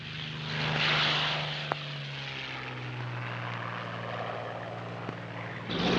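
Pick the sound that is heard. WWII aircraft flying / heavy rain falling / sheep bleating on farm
WWII aircraft flying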